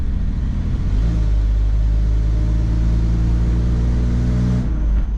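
A Toyota Land Cruiser's engine rumbles steadily while driving, a deep, loud, continuous low drone heard from inside the vehicle, with no voices over it.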